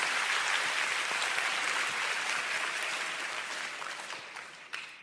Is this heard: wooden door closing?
no